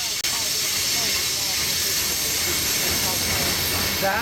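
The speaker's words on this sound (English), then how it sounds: "This particular train, however, is well over 200 cars and needs 6 AC traction diesels to" A very long coal train of over 200 fifty-ton hoppers, hauled by six AC traction diesel locomotives, passes as a steady loud roar with hissing wheel and wind noise, continuous and close, with faint squealing near the end.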